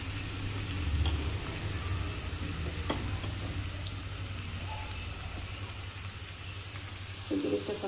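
Cashews fry in hot oil for a tempering, giving a steady, close sizzle over a low hum that swells slightly near the end.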